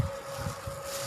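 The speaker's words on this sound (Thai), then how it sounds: "ลมแรง" Strong wind buffets the microphone outdoors, a steady low rushing roar with small gusts over about a second and a faint constant tone running underneath.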